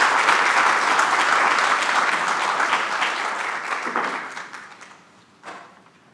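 Applause from an audience at an IT leaders certificate program graduation, a dense burst of many hands clapping that gradually thins and fades, with a few last claps near the end.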